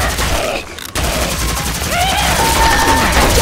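Rapid gunfire rattles during a Left 4 Dead 2 zombie fight, with a loud continuous stream of shots briefly cut off then resuming, layered with shouting voices and creature noises.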